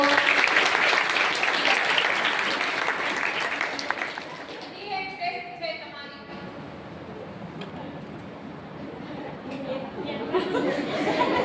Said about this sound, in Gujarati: હોશિયાર હોશિયાર તાળીઓ તાળીઓ